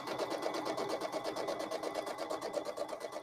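A sewing machine stitches a quarter-inch seam on a quilted triangle pillow, running continuously with a fast, even mechanical chatter at moderate, close-up volume and no talking.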